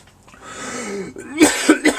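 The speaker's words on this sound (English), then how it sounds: "excuse me, coughing my lung up" A person coughs a few times in quick succession, close and loud, after a short strained breath.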